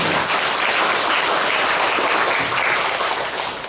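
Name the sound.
congregation applauding in thanks at church service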